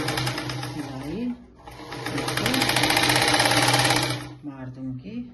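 Sewing machine stitching a folded blouse strip, two loud close bursts of fast rhythmic whirring, with someone talking between them.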